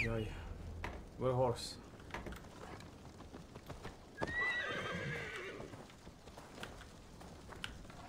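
Horse hooves and whinnying from the Assassin's Creed Valhalla video game: a loud whinny early on, then a rough stretch of galloping and movement with scattered knocks, game sounds and a voice over the top.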